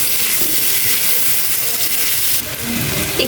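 Onions frying in a hot pan for a duck egg and bottle gourd dish, a steady close sizzle and hiss that shifts slightly as the pieces move, loud and without talk.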